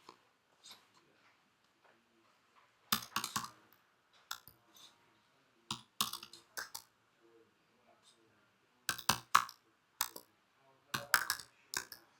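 Numbers typed on a computer keyboard in a quiet room, bursts of sharp, close key clicks in short rapid runs separated by pauses.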